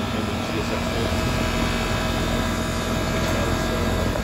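Goodman GSX14 two-ton air conditioner, 2019, converted to a Bristol Benchmark reciprocating compressor, running with a loud steady droning hum and fan whoosh close by.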